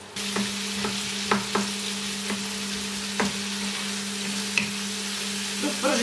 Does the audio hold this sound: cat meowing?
no